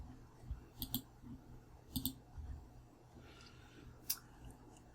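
A computer mouse clicks quietly while text is cut and pasted into a document, with a few sharp single and double clicks spaced over several seconds against faint room hiss.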